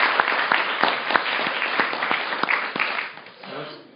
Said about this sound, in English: Let's give a warm round of applause for all the panelists.